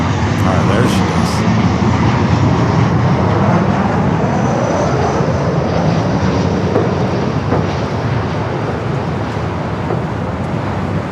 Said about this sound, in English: Delta 767 400 ER, now pushing back Terminal 3.